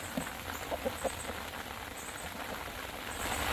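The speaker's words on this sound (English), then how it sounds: "Y'all hear that rain?" Steady, fairly faint rain hisses down outdoors around a flock of Wyandotte chickens, with a few soft clucks early on.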